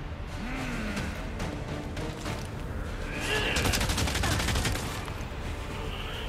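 Rapid bursts of gunfire from the video game Resident Evil 4, dense volleys of repeated shots building to a sustained fusillade in the middle, loud over a constant game soundscape.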